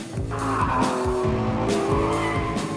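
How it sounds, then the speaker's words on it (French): A Stelvio launches hard from a standing start, its twin-turbo V6 roaring loud and close while tyres squeal, with engine pitch climbing repeatedly through quick gear changes. "Quel démarrage en trombe!"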